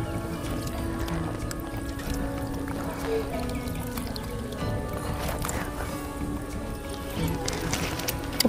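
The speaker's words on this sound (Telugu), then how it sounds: "ఇప్పుడు ఇవ్వ నీళ్ళు పంపేసుకుందాం." Water drains off washed tripe, cooked as boti curry over a wood-fired stove, in a continuous splashing pour with wet squelching and sloshing close by for several seconds.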